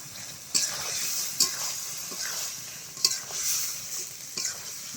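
Mutton pieces with garlic cloves stir-fried in a pan for Bengali mutton kosha, a steady close sizzle broken by several sharp scraping clatters of a spatula at irregular intervals.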